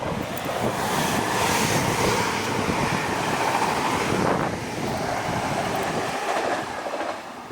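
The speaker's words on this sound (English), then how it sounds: "Oh, there's another one coming." A train rolls past on the railway at Millhall Road near Stirling, Scotland, a loud steady rumble and roar close by that eases off toward the end, with wind buffeting the microphone and no talk.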